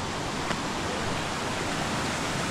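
Clean water rushing steadily in a stream beside a remote village near Kodaikanal, a dense, even hiss heard up close with no breaks.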